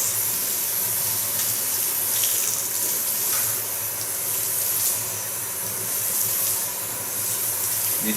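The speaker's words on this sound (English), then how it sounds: "Not too warm water, I rinse it out." Warm tap water runs steadily from a faucet while bleached blonde hair is rinsed at a salon sink, a continuous close splashing hiss with no talk.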